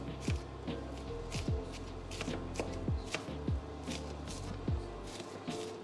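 Knife chopping butternut squash on a cutting board at home, a series of dull, irregular thuds and scrapes spaced about a second apart, close and fairly quiet.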